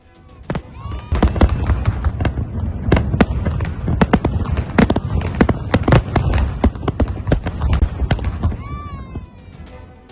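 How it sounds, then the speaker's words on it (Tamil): New Year fireworks over Abu Dhabi crackle and bang in dense, rapid bursts for several seconds, with sharp pops layered over a constant rumble and faint whistles near the start and end. "அபுதாபியில் புத்தாண்டை ஒட்டி வான வேடிக்கை."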